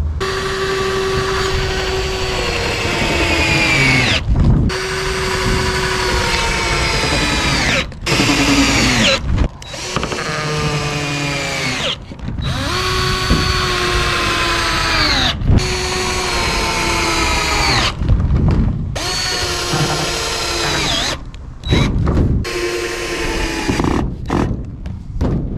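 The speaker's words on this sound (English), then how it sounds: "I'm gonna drill some stuff." A power drill whines loudly in repeated bursts while drilling into a cargo trailer wall, revving up and down with brief pauses between runs, close and dominant throughout.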